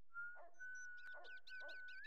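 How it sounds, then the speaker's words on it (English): Whistled tune from a character in The Sims Bustin' Out, a clear melodic line running throughout with short muffled game chatter sounds and clicks mixed beneath it. "who is whistling?"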